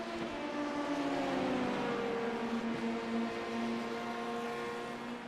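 Race cars in a racing video game at Daytona, engines droning steadily in a tight pack with a sustained mid-pitched whine that holds level throughout, no talk over it.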